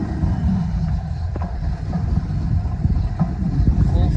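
A train rumbles steadily at close range through a busy station at Clapham Junction, with low continuous rolling noise and occasional clanks, while a voice speaks over it at times.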